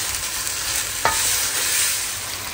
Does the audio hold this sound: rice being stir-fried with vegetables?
yes